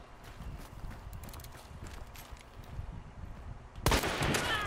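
Gunshot in The Hunt multiplayer shooter, a single loud sharp crack near the end after several seconds of quieter footsteps and scuffling clatter.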